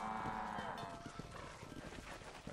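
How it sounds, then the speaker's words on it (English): A cattle herd in the Red Dead Redemption video game lows faintly at the start. Soft hoof and movement sounds from the livestock continue quietly underneath. "Alright, you stupid cows."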